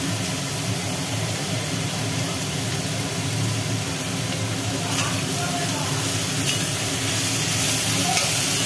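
Chopped leafy greens frying in a pan with salt, split green chillies and a pinch of turmeric make a loud, dense, unbroken sizzle, close up, with faint stirring scrapes.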